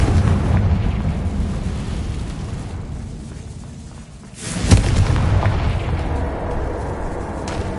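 A Confringo blasting spell explodes in Hogwarts Legacy, a single loud burst with a sharp attack that rises out of a dull rumbling ambience and fades back into it.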